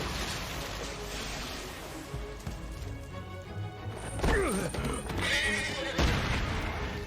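A horse whinnies loudly in an anime episode, a rising and falling neigh near the end, with clip-clop of hooves and rushing storm-like noise beneath, plus brief indistinct voices.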